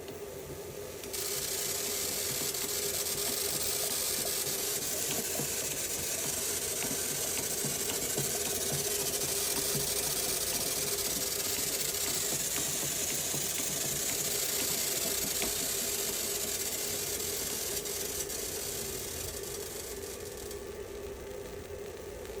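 A Wimshurst electrostatic machine runs continuously, giving a loud, steady broadband hiss with a whirring mechanical rattle underneath that holds evenly for about twenty seconds, with no talking.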